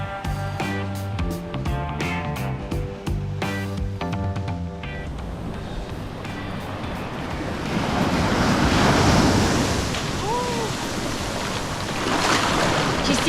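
Waves breaking on a beach at Puerto Escondido, Mexico, a continuous close wash of surf with some wind noise on the microphone, following a stretch of music at the start.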